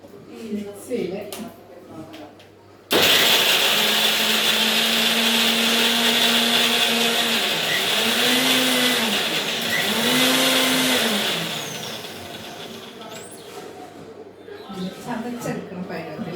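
A kitchen mixer grinder crushes mango chutney, a loud steady motor whine starting abruptly and running for several seconds with rising and falling pulses, with a voice speaking before and after.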